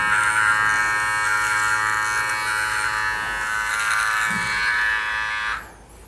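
A Nova NHT 1058 beard trimmer, IPX7 waterproof, runs with a loud, steady electric buzz while trimming arm hair, humming evenly for several seconds before switching off abruptly near the end.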